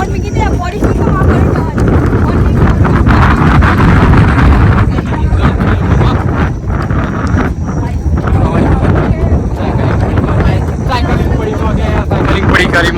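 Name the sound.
strong windstorm wind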